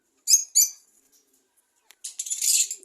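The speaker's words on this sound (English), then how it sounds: "But they are so loud again. And then, yeah, some more lovebirds back there." Lovebirds and small birds on a farm chirping nearby: two quick sharp chirps, a pause, then a louder burst of rapid high twittering.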